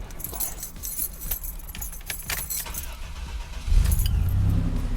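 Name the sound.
1987 Buick Grand National turbo engine starting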